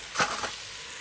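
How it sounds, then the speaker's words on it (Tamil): Onions, ginger, garlic and tomato sautéing in a pan, a soft steady sizzle with a brief stir-like scrape near the start, close and fairly quiet. "போட்டு நல்லா இஞ்சி பூண்டு வாசம் போகிற அளவுக்கு வதக்கி விட்டுடலாம்"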